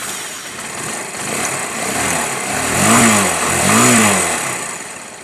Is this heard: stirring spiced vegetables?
no